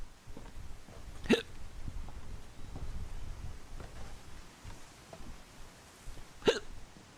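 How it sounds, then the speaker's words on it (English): Two sharp hiccups from a person during a game stream of What Remains of Edith Finch, spaced several seconds apart over faint background noise and wind-like rumble. "I got the hiccups."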